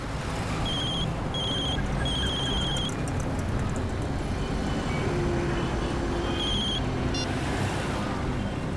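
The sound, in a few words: mobile phone ringing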